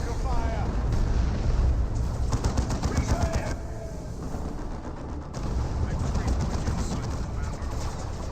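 Missiles rain down amid dense battle gunfire and explosions in the real-time strategy game Dawn of War 2, with continuous rumbling blasts and rapid firing bursts throughout, loud and layered.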